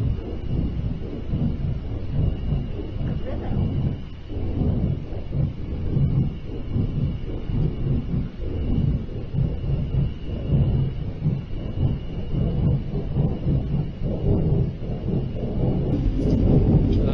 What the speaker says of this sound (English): I hear the wind.